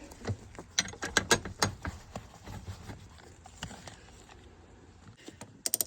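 A ratchet tightens 14mm seat bolts in a car interior, giving quick bursts of clicking and clunks, fairly close, then trailing into quiet handling noise.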